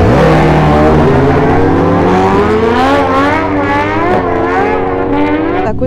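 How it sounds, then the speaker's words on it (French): Yamaha R1 and Honda CBR 1000RR superbikes launching side by side at a drag race, their engines screaming loud and close as they climb through the gears with rising, wavering pitch, with no talk. "ça va repartir là sur un R1 et un CBR 1000RR"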